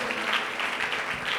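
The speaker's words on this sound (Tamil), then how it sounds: "அப்பாவுக்கு ஒரு கைத்தட்டு கொடுத்துருங்க பார்க்கலாம்." A church congregation claps together during a Tamil Christian service, a steady, continuous patter of hands that runs the whole time without talking.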